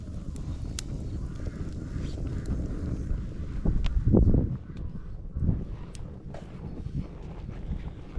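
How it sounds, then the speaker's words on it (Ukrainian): Wind blows outdoors on a gusty day beside an open fire where copper is being melted in a can, giving a close, steady low rumble of buffeting with a stronger gust near the middle. "Сьогодні вітер, вітряна погода"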